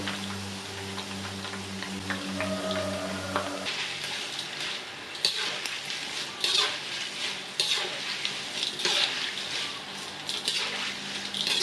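Taro strips fry in hot oil with pandan leaves, a steady loud sizzle with stirring scrapes throughout, a brief tonal hum at the start before the crackling takes over.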